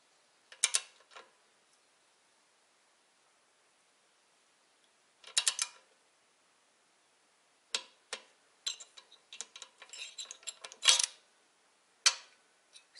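A ratchet wrench loosens a cylinder head nut on a D-250 engine in a quiet workshop, with short bursts of crisp clicking separated by pauses, then a quicker run of clicks toward the end.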